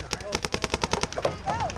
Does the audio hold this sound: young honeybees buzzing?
no